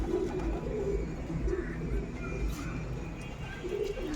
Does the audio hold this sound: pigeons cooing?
yes